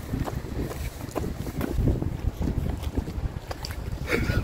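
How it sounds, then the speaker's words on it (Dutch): Strong gusts buffet the microphone outdoors near a station, low rumbling wind noise dominating throughout with no clear speech. "Ik hoop niet dat de wind fel is in de video, want het waait echt."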